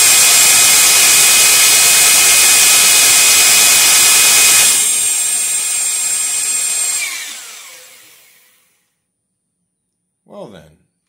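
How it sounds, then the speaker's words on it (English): A drill spinning a 600M3 wind turbine under load on a test bench, a loud high whine with steady tonal hum that drops in pitch and fades to silence as it spins down, then a brief low sound. "We should not exceed probably more than 300 or 400 RPMs on the drill because it'll be loaded now."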